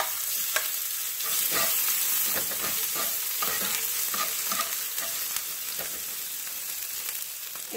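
Onion fries in oil heated very high for Costa Rican gallo pinto, a close, steady crackling sizzle with repeated sharper spits and stirring scrapes, and no talking.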